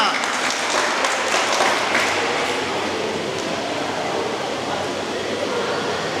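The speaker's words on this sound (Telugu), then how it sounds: "గట్టిగా చప్పట్లు" A crowd at a Sri Krishna Janmashtami celebration with kolatam dancing breaks into dense, sustained applause. The clapping stays loud and even for several seconds, with voices faintly mixed in.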